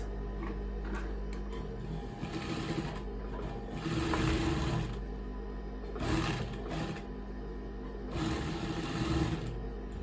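A sewing machine stitches a label onto vintage cloth with a close, fast, rattling whir that comes in several bursts of a second or two, with a softer hum and ticking between them and no talk.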